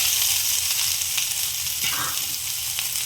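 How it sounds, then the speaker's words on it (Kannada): Chopped onion and a green chili fry in hot oil with a little garlic, giving a steady close sizzle and crackle with occasional stirring scrapes and no talking. "ಈರುಳ್ಳಿ ಸ್ವಲ್ಪ ಫ್ರೈ ಆಗೋದಂತ ಫ್ರೈ ಮಾಡ್ಕೊಳ್ಳೋಣ."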